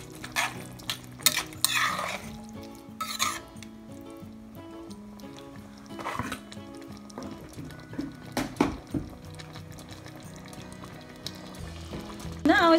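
Spoon stirring brown sugar and seasoning into a sweet and sour sauce for pompano, soft scraping and liquid swirling, faint and intermittent beneath background music.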